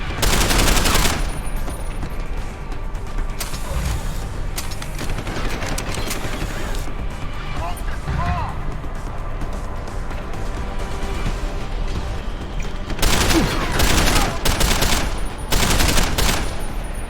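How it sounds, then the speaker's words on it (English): Bursts of automatic gunfire rattle loudly from cover in Deus Ex: Human Revolution, with heavy volleys at the start and again near the end and steady combat noise in between. "I can also fire from cover"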